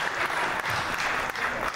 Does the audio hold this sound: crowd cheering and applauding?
yes